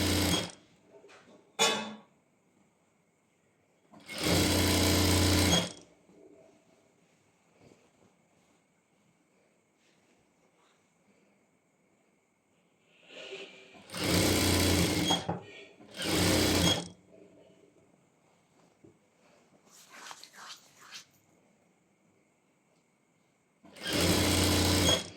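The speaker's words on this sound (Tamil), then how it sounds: "கரெக்டாக 1/2 இன்ச்சில் ஸ்டிச் பண்ணிக்கோங்க." A sewing machine stitches pant fabric at a half-inch seam, loud close bursts of rapid whirring separated by quiet pauses for fabric handling, with faint talk in the gaps.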